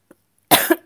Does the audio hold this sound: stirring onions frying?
no